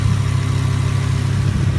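A Lamborghini Huracan LP610-4 V10 engine idles steadily and loudly up close, a deep continuous rumble with no voices over it.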